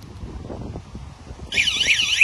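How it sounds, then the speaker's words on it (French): An electronic anti-theft alarm horn on a bicycle or scooter bell unit starts abruptly partway through, a loud, shrill warbling siren tone that holds steady to the end over faint background noise. "Donc ça c'est le troisième klaxon."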